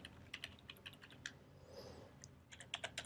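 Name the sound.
typing text on a computer keyboard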